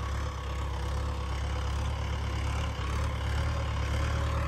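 A tractor sowing wheat in a field, its engine droning in a steady low hum with a constant throb and no change in pace, close and continuous with no voices.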